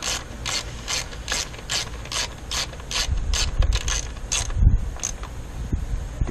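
A ratchet wrench tightens an ignition coil bolt on a 2002 BMW 325i, giving a rapid run of crisp, evenly spaced clicks up close, then slower, heavier strokes with some clunking as the bolt seats.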